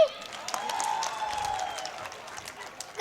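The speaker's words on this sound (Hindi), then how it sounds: "जरा उनके स्वागत में ठोको ताली" Audience clapping to welcome a poet at a Holi festival poetry gathering, a light scattered patter of hands with faint crowd murmur, fairly quiet and brief.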